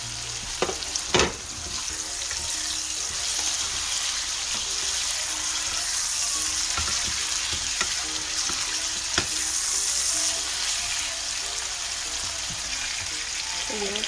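Salted codfish sautéing in a pan with vegetables for Jamaican ackee and saltfish, a steady close sizzle of frying with occasional stirring clinks, continuous and moderately loud with no talking.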